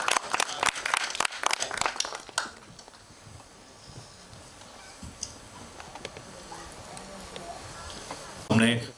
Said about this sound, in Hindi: जोरदार तालियां हो जाएं, लेडीज एंड जेंटलमैन